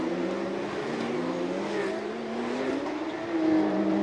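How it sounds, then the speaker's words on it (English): A Porsche Carrera Cup race car on a street circuit in Chonburi accelerates through corners, its engine a sustained, fairly loud drone that rises in pitch near the end. "With a little acceleration, you can see the back of the Porsche swing out just a bit to make it through the corners"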